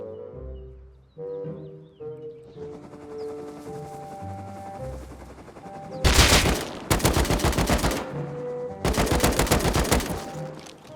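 AK rifle fire in the video game Rust: several loud bursts of rapid automatic shots in the second half, cutting in over soft game music that plays alone at first.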